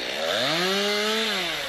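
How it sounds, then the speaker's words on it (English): Chainsaws cut through fallen trees on a South Austin street, the engine revving loud and close with a rising then falling pitch as the saw bites into the wood. "This chainsaw strike team Friday afternoon made fast work out of several fallen trees in South Austin."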